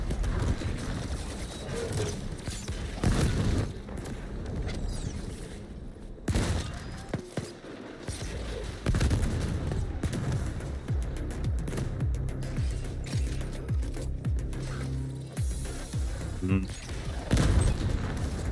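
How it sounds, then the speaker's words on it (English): Explosions and gunfire in a sci-fi action video game burst in repeated loud booms and crackling volleys through the whole stretch, with a person speaking over parts of the noise. "At least I go down in a blaze of loads of explosions."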